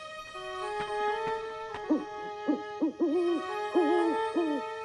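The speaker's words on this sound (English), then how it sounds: "Just an owl." An owl hoots at night in a series of clear, mid-pitched calls, several short hoots repeating at an uneven rhythm, close and alone over a faint background.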